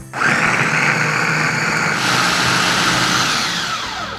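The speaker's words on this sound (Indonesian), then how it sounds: "Dan kita chop sampai halus." A Mitochiba CH100 electric chopper grinds ginger and galangal with water and cooking oil. It gives a loud, steady motor whir with rough grinding texture, close and continuous, and its pitch shifts slightly partway through before easing off at the end.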